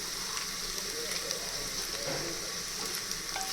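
Garlic and ginger frying in oil in a cooker for chicken biryani, with a steady hissing sizzle and a few faint utensil clinks.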